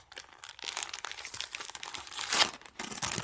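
Crinkly paper being unwrapped close up, a steady run of rustling and tearing with a louder crunching burst near the end.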